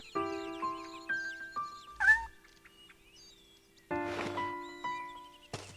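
A cat meows in the Shenmue HD Remaster video game, with several short, close mews spread across the stretch amid soft background game tones.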